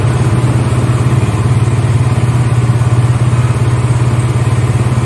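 A Suzuki GSX-R150 motorcycle exhaust runs steadily at about 2000 rpm, a loud, close, even burble with a rapid regular pulse and no talk.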